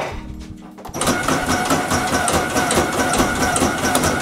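An Ultra Trimmer leaf-trimming machine kicks on after a second of low rumble, then runs loud and steady with a dense, buzzing mechanical whir close by.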